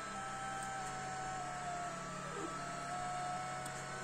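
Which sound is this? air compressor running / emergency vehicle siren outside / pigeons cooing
air compressor running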